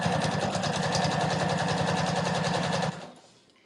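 A sewing machine quilts fabric for a vinyl window pouch, running in a loud, steady, rapid rhythm for about three seconds before stopping abruptly and fading out.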